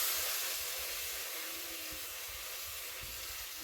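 Teriyaki chicken sizzling in a hot pan, a steady bright hiss that starts loud and settles slightly, with no talking.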